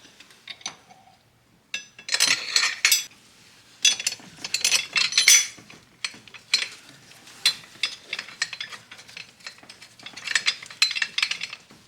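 Engine bolts on a 2007 Toyota Highlander Hybrid go back in during a timing belt job, giving rapid ratcheting clicks in bursts with metallic clinks between them, close and fairly loud.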